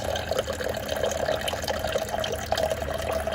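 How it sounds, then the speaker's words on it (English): A SimPure Y7 countertop reverse osmosis filter dispensing water, a continuous close trickling stream running evenly at moderate volume for several seconds with no talking. "push the button"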